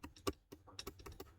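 Quick, soft clicks of a computer keyboard as code is typed in short bursts, close and quiet with no talking.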